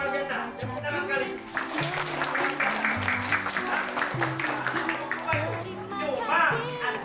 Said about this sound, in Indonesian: Tepuk tangan sekali.